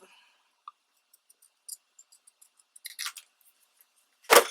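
Scissors trim paper for small craft tags, a few scattered quiet snips and clicks, then a louder cutting burst at the end.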